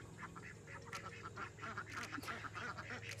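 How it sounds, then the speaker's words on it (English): Several ducks quack in quick, overlapping bursts, fairly close and continuous across the few seconds, with no talk. "silly ducks"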